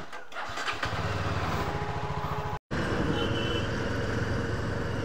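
A Yezdi Scrambler motorcycle engine fires up and settles into a steady, throbbing idle, loud and close, with a brief cut partway through.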